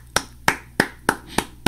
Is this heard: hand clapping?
yes